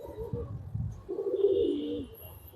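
A pigeon coos in a clear low rolling phrase, close and fairly loud, after a few softer murmurs, with a faint high tone behind.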